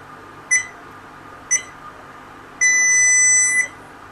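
A JK (Jikong) BMS for a lithium-ion battery beeps on power-up: two short electronic beeps about a second apart, then a longer, steady tone of about one second, clear and close over a quiet background.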